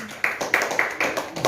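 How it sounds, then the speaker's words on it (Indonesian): A few sharp, scattered claps ring out at a Pentecostal church New Year service, spaced roughly a beat apart over a low murmur of voices. "Puji Tuhan, tepuk tangan dong."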